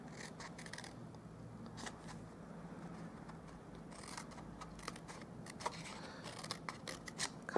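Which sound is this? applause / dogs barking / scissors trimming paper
scissors trimming paper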